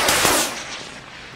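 Artillery fires in the video game Squad: one sharp, loud blast with a short rumbling tail that fades within about a second.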